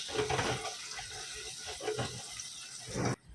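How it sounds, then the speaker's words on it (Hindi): Water pours into a pot in a village kitchen, gushing in uneven surges that splash and gurgle nearby before stopping abruptly. "अभी थोड़ा सा पानी डालें"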